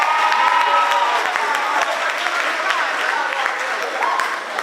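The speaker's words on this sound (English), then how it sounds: "let's just give the team outside a round of applause" Applause at a school robotics challenge, a loud crowd clapping and cheering steadily with some voices and shouts mixed in, sustained evenly to the end.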